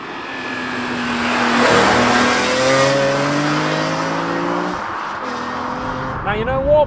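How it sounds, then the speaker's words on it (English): A BMW E46 M3 CSL engine fires and revs, its tone rising and sweeping up and down close by, mixed with broad wind-like roar and a brief chirp near the end. "Everything here just makes you want to start the engine and drive it"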